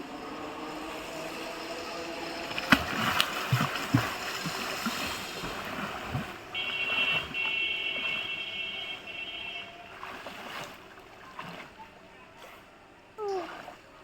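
A person swims in a village pond. Water splashes and sloshes at close range, sometimes in short sharp bursts, with light background noise and a faint voice.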